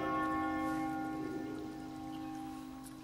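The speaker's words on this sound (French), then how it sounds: "au rythme d'une cloche qui sonne" Church bell tolling a slow death knell, one resonant strike whose rich, humming overtones ring out and fade gradually, heard alone without voices.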